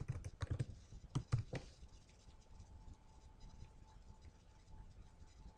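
Quick bursts of typing on a computer keyboard at the start, several rapid clicks close by, then a quiet room with a faint steady hum.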